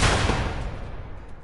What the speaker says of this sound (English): Shoot at it.